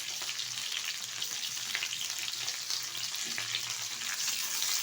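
Onion petals frying in hot oil for chilli chicken, a steady dense sizzle and crackle running continuously throughout, fairly loud and close with no voices.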